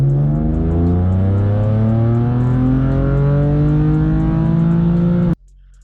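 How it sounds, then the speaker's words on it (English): A straight-piped BMW M4 with the S55 engine in a video game revs up in one long, smooth climb, loud and steady from the interior, then cuts off abruptly. "recorded some straight pipe M4 samples"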